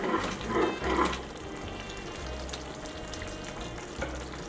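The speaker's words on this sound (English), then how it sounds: "I'll let this fry for about 5 minutes until everything is succulent." Soft sizzling and bubbling of ingredients with tomato frying in a pot for Liberian check rice, with a few clinks and stirring noises early on, fairly quiet and continuous.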